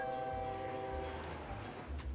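A train sits at a station in the video game OpenTTD. It gives a faint, steady horn-like tone that fades over a couple of seconds above a low rumble.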